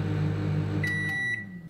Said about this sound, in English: I'm going to use my new preferred method by microwaving it until it's hot